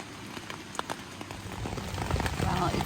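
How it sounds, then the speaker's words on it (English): Steady rain pours down outside a camping tent along the Appalachian Trail at night, a dense hiss with scattered sharper drops pattering on the fabric, growing slightly heavier toward the end. "it's pouring rain"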